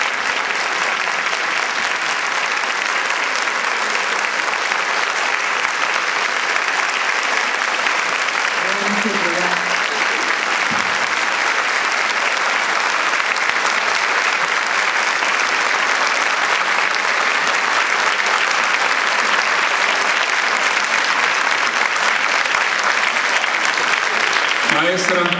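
Applause from a full auditorium, a long, loud and unbroken wall of clapping that holds at constant intensity throughout, with a brief vocal sound faintly audible within it.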